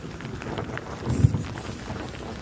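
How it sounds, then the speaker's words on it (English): Heavy rain falls in a steady, fairly soft wash of noise, with one brief low thump partway through and no talking. "It's raining hard."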